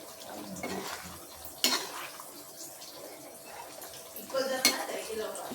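Squid cooking in a pan, heard as a quiet simmer with clinks and scrapes of a utensil against the pan, including two sharp metallic knocks, and little else over it.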